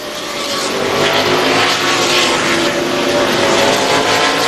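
NASCAR stock cars lapping Lime Rock Park through lapped traffic at the 2005 Burnham Hydronics 200, a dense, loud roar of several engines blending into a continuous wash of racing noise.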